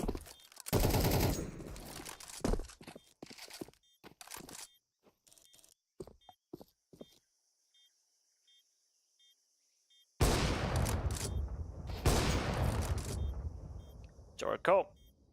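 Gunfire rings out in a Counter-Strike pro match, with bursts of rapid automatic shots and single cracks spread through quieter stretches. A caster talks over much of it.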